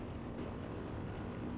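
An IBEX 700 motorcycle engine is held high in the rev range near 9,000 RPM. A loud, unbroken roaring drone mixed with rushing wind fills the short stretch, with no talk.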